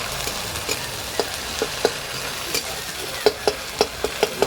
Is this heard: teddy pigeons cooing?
no